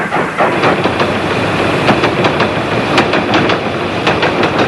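A train runs along the Trans-Siberian Railway, its wheels beating out a continuous, loud clickety-clack over the rails with a steady rolling rumble beneath.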